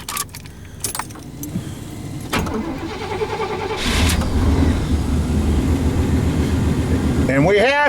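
2004 Chevrolet Impala engine cold start: keys jangle, then the starter cranks and the engine catches into a steady loud close idle, with a short squeal near the end.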